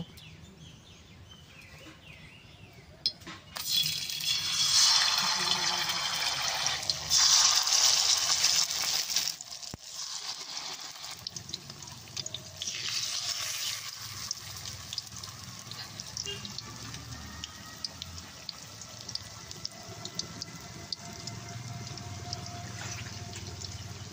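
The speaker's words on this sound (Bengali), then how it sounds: "তেলটা গরম হয়েছে, এখন বড়া দিয়ে ভেজে নেব।" Small fish and pumpkin leaf fritters sizzle in hot oil, a steady broad frying hiss that swells loudly for several seconds as batter goes in, then settles to a softer continuous crackle.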